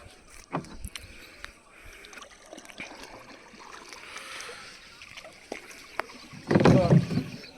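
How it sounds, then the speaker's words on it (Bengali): Rowing a boat on a river during a morning fishing trip, with faint paddle strokes and light water sloshing throughout and a louder splash near the end, recorded close up with no talk. "তা আমি এখন নৌকা চালাচ্ছি, নৌকাটা ঘুরে গেছে"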